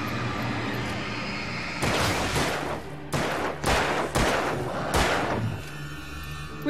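Rapid bursts of gunfire in the video game Alan Wake, several loud clustered volleys with short gaps between them, over a steady game background.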